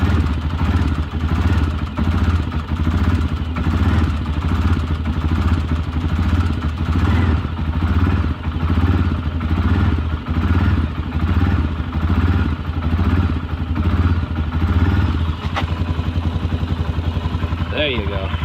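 A 2003 Honda 400ex ATV engine idles while warming up, a loud, steady, even mechanical putter that runs unbroken the whole time at close range.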